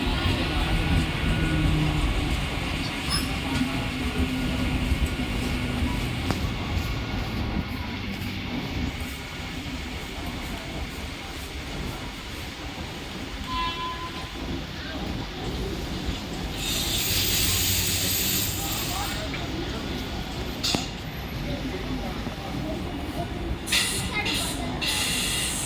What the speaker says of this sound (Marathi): प्लॅटफॉर्म क्रमांक 1 पर आई हुई लोकल 1:26 की अंबरनाथ जाने वाली धीमी लोकल है।